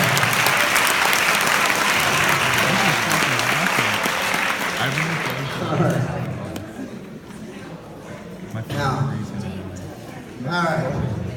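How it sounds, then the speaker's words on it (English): A crowd at a senior all-night party hypnosis show applauds loudly for the volunteers, with the clapping dense at first, then thinning out as voices and talk take over the room. "Let's give them all a big round of applause."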